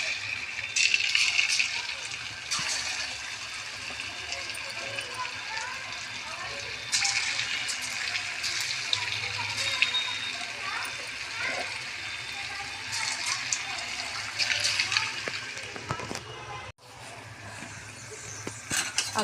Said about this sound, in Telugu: ఇదిగోండి, ఇలా వేగుతున్నాయి పునుగులు.